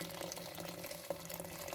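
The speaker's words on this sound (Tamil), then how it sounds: "8 cups வந்து நான் சூடு பண்ணி இப்போ ஆட் பண்ணியிருக்கேன்" Hot water pours steadily into a pot of sweet corn chicken soup with a soft, continuous splashing and gurgling, faint and close, with no talking.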